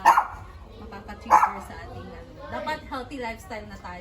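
A dog barks sharply twice, close by, over steady conversation between people.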